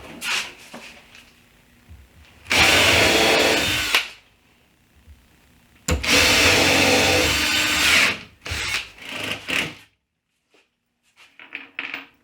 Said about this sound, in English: So I'm going to cut a sheet of plywood that's going to fit on the back, screw it on the back